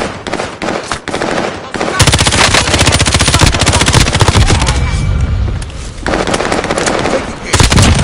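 Video game gunfire: loud rapid machine-gun bursts in long rattling strings, broken by short pauses and a brief quieter stretch, with some voice underneath.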